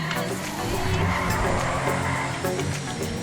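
A tuned car drifting in the FiveM driving game, with tires squealing and skidding steadily under a droning engine, loud and continuous, while someone talks over it.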